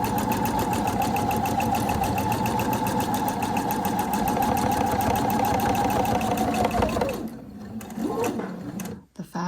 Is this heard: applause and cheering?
no